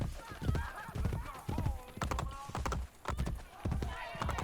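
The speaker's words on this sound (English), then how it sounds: "You notice I'm outrunning the horse that's supposed to be, like, catching up to me?" Horse hooves gallop in Assassin's Creed Brotherhood with a steady, driving clip-clop rhythm, loud and close, mixed with other busy game sounds.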